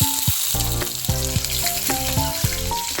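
Chopped onion and tomato sizzle in a hot pan for a katrikai gravy, a loud, continuous frying crackle broken by rhythmic scraping taps of a spoon stirring close by.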